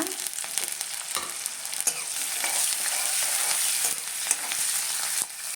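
Onion, curry leaves, dried and green chillies frying in a pan for a cluster beans stir-fry, a continuous bright sizzle with intermittent scrapes of stirring, fairly close.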